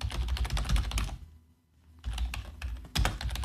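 Rapid typing on a computer keyboard, dense close-up key clatter that pauses briefly in the middle before resuming at the same fast pace, with no speech over it.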